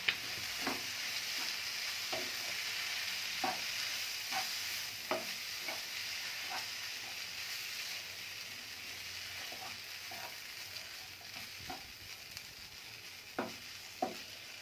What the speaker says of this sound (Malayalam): കട്ട് ചെയ്ത് വെച്ചിരിക്കുന്ന ചപ്പാത്തിയിലോട്ടിട്ട് മിക്സ് ചെയ്യാം.